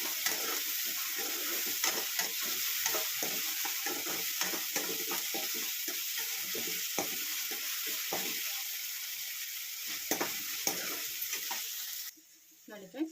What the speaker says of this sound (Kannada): ಎಣ್ಣೆಲಿ ಚೆನ್ನಾಗಿ ಫ್ರೈ ಆಗಿದೆ